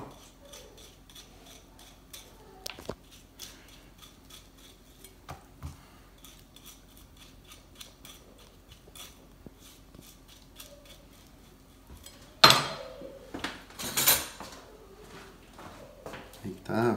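Knife chopping avocado on a board while making imitation crab ceviche, a series of faint, sparse ticks and taps with a few louder clacks near the end, under a person talking.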